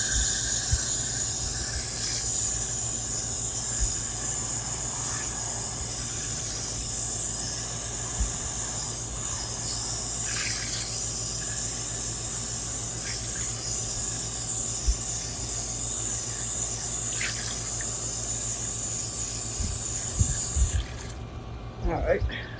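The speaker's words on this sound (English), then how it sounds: "So, let me rinse this up first." Faux sea glass being rinsed under running water, a steady close hiss of the tap flowing throughout with small splashes and clinks near the end.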